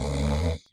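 Players in a Paranoia tabletop role-playing session imitate snoring with their voices, producing one drawn-out, rumbling snore up close that cuts off abruptly and leaves a faint breathy tail.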